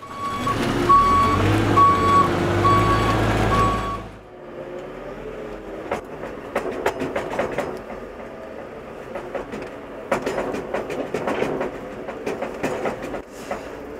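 A New Holland tractor loader scoops manure with its bucket: a loud engine with a steady beeping tone opens, then gives way to rumbling, scraping and clanking bursts at a steady working pace.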